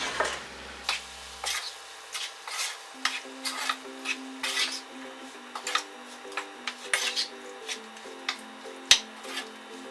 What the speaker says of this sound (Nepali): अब राम्ररी चलाएर सबै मिक्स गरौँ।